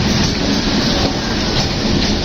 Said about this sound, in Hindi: लें जी ट्रेन आ गई है झेलम के लिए।